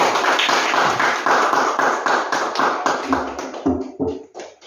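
An audience at a primary school claps after the principal's presentation of the school's vision and mission, a dense round of applause that thins into scattered claps.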